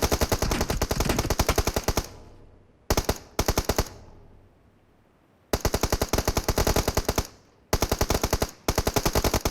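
Rapid automatic gunfire in an online shooter game, loud close bursts of evenly spaced shots separated by short pauses, repeating across the whole stretch with no voices.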